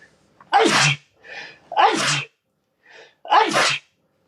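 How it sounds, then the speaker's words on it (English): Three forceful sneezes burst out close by, each preceded by a soft sharp inhale, with brief pauses between them. "I gotta sneeze."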